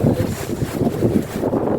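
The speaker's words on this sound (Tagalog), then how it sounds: "Lakas na hangin." Strong typhoon wind under a Hong Kong signal 8 warning roars and buffets the microphone in a steady, dense rumble for the full stretch, with no voices.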